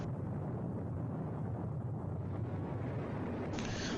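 A deep, continuous rumbling roar of nuclear, underwater and volcanic explosions from old film footage, loud and sustained without a break, with a brighter hiss rising near the end.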